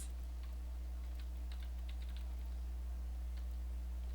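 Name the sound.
typing keywords on a computer keyboard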